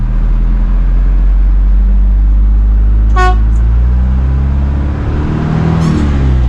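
An Isuzu NPR 115 hp truck pulls away, with a loud, deep engine drone that rises in pitch as it accelerates. A short horn toot sounds midway, and the engine hum continues to the end.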